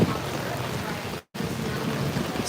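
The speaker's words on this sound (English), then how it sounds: "It's been raining for a while." Steady rain falls outdoors at Universal Studios Florida during a Halloween Horror Nights night, a dense continuous hiss with a brief dropout midway, fairly close and without any clear talk.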